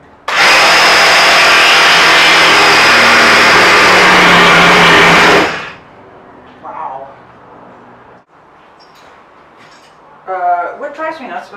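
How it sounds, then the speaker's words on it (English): A jigsaw cuts roof bows for a camper truck, a loud, steady, close buzzing that runs for about five seconds and then stops abruptly, followed by quiet room noise and a little speech. "What drives me nuts about the jigsaw is it's really freaking loud"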